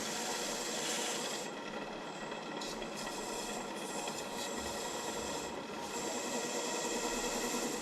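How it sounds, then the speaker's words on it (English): Buffing a maple vase on a spinning buffing wheel, a steady loud broadband whir with slight rises and dips in tone running continuously throughout, no voices. "Here we go for buffing again."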